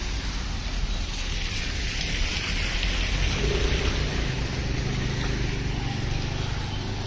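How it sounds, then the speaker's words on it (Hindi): Heavy rain falls steadily beside a road, a broadband wash with no breaks. Partway through, a passing car adds a low rumble. "बारिश तेज हो गई है, मजा आ रहा है।"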